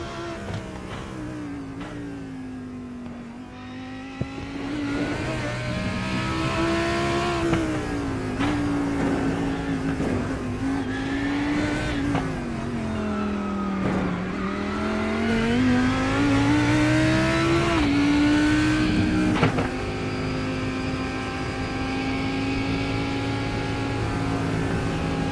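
An onboard GT3 race car engine laps Sandown in a racing video game, revving steadily through the gears with rising and falling pitch as it brakes and accelerates, loud and continuous, with some tyre squeal.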